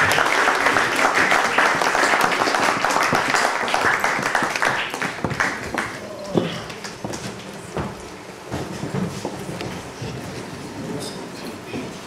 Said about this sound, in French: Je vous demande d'applaudir Tiliwa.